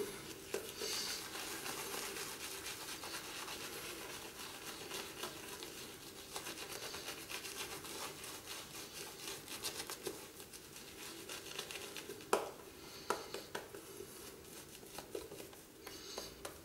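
A shaving brush works lather into foam on the face in a pre-shave routine, giving a steady wet crackling and squishing texture with brisk scrubbing strokes, close and fairly quiet, with no talking.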